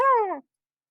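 A single drawn-out cat meow, clear and close, falling in pitch over about half a second before cutting to silence.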